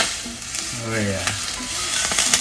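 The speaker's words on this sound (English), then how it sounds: "Sizzle." Ginger, scallion and chicken sizzling and frying in a pan, a loud close crackle and hiss throughout, with brief faint vocal sounds over it.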